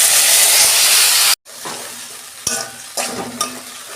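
Tomato and cashew paste hits hot oil already seasoned with dried red chilli and whole cumin for a Bengali palak paneer, giving a loud, steady sizzle, then a brief cut and quieter frying with occasional spoon scrapes and stirring knocks.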